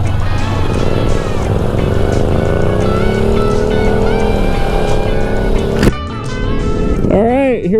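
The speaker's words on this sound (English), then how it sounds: "Oh man, that FZ07 sounds good." Yamaha FZ07 motorcycle engine pulling away from a campground, loud and close with rising revs through the gears, wind noise over it, then a sudden drop to quieter riding with a voice speaking near the end.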